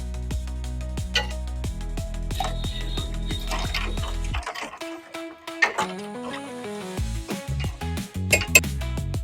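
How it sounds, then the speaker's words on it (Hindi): Ice cubes are dropped into a dish while making a Rajasthani potato, onion and paneer curry, giving a series of close, bright clinks and knocks with brief pauses between them. "इसे को ठंडा करने के लिए हम इसमें बर्फ डालेंगे।"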